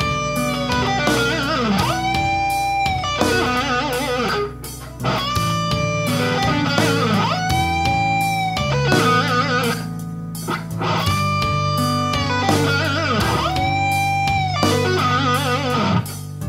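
Electric guitar plays a two-phrase lick in the Japanese Hirajoshi scale, with bent and sustained notes repeated in cycles over a steady backing track, clear and fairly loud throughout.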